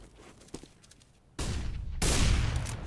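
Gunfire in Counter-Strike on the dust2 map during a professional match: two loud, dense bursts of shots that start abruptly and run back to back, over a low background murmur.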